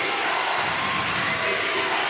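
Crowd noise at an NC State women's basketball game against Liberty forms a loud, steady roar of many voices throughout, with a commentator talking over it.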